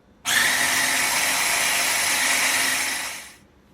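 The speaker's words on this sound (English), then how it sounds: "Now we turn on the grinder." An electric grinder whirs steadily while grinding raw eggs with salt into a paste, a loud, continuous motor hum that starts abruptly and winds down near the end, with no talking.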